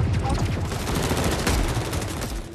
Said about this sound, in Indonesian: tampak Kang bersama pasukan khususnya telah menantikan Sobok untuk diberondong tembakan